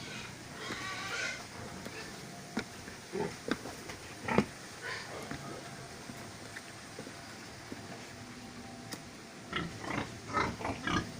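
Pigs grunting and snorting intermittently in a pen, with scattered bursts of activity and some rustling, fairly close.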